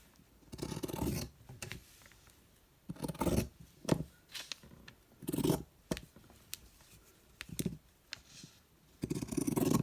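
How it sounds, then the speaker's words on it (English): Scissors snip and crunch through fabric edges in a quiet room, a series of close, uneven cutting bursts separated by short pauses. "So I'm going to just trim the edges off."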